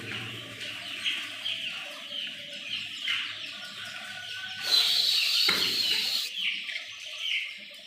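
Busy chatter of young pigeon chicks cheeping and clucking throughout, a brief burst of wing flapping partway through, no talking.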